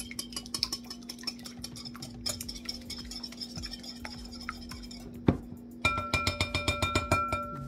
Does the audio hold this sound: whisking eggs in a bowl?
yes